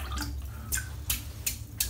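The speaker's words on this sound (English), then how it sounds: "So let's get it dipped in the water" A big synthetic-knot shaving brush is dipped into water, giving several short splashy drips and sloshes spaced through the moment over a low steady hum.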